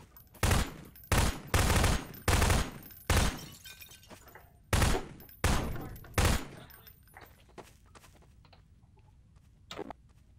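Guns in Garry's Mod fire in loud, close bursts, about eight separate volleys in the first half, then a quieter stretch with one faint final shot near the end.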